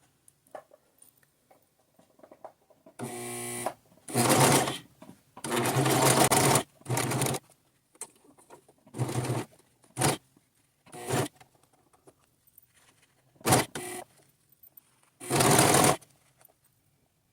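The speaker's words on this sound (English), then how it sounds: "And then just begin to sew around." A sewing machine stitches fabric wrapped around pipe cleaners to make cloth-covered hair rollers. It runs in repeated short bursts of rapid, loud mechanical whirring, separated by quiet pauses, with no talking.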